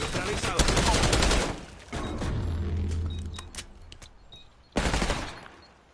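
Rapid automatic gunfire from a Call of Duty match bursts loudly and close in two long volleys, with a quieter stretch of game noise and faint shots between them.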